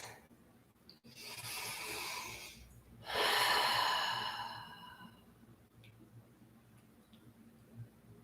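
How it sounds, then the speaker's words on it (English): Two long, deep breaths during a yoga class, each a slow airy inhale or exhale lasting about two seconds, close and fairly soft, followed by quieter breathing in a still room. "Big purposeful inhales and exhales"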